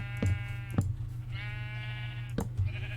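Several Minecraft sheep give short, nasal electronic bleats over a steady low hum, one after another at close range.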